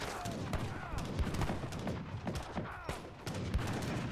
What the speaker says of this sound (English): 2 mortars coming in.